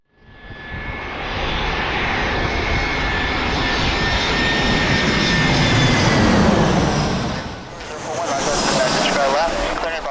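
Airliner landing at San Diego Airport, a loud, steady engine roar building and holding for most of the stretch, then easing briefly before a rising whine near the end, with radio tower chatter faintly underneath.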